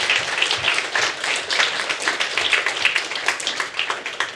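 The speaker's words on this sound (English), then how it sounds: "Is it time for a round of applause for Gordon?" A seated audience at a launch event gives a round of applause for a man named Gordon: dense, steady clapping that holds at an even level for the whole stretch, with no voices over it.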